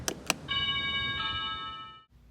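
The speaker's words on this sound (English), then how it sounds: "New working doorbell." Two short clicks, then a sustained multi-tone electronic chime from a wireless plug-in doorbell rings steadily for about a second and a half before cutting off, fairly close and clear.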